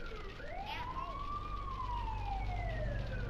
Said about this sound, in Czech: Potřebuji vidět, kdy houkají policajti.